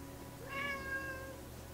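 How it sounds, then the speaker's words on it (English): A house cat gives a single drawn-out meow, moderately close and clear above a low steady room hum, with no talking. "I literally have a complete zoo over here. I have a cat."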